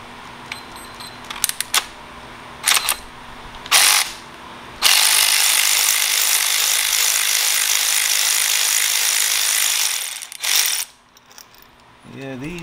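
A wrench breaks loose spark plugs on a 2.0T Audi Allroad B8, giving several short clicks and scrapes followed by a long, loud grinding ratchet pass and a few more clicks at close range.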